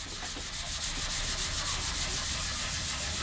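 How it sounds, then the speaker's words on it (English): Steady abrasive rubbing as Kovacs pads level-sand a high-gloss finish on a Westone X390 Pantera CB tribute guitar indoors, a continuous close scratchy hiss with a faint back-and-forth stroke rhythm, no voices. "time to do some level sanding. And I'm using these Kovacs"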